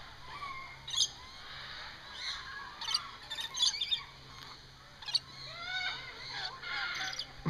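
Many birds squawk and chirp close by in a busy, overlapping chorus, with sharp calls bursting out every second or so over a steady hum.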